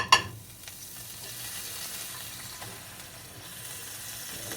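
Butter sizzles in a pan beneath a grilled ham and cheese sandwich, a soft, continuous frying hiss close by, opening with a brief sharper crackle as the butter hits the hot surface.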